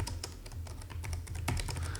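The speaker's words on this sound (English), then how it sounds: "I'm typing "the prodigal son,"" Typing on a computer keyboard, a quick irregular run of crisp key clicks, fairly quiet and close, with no voices.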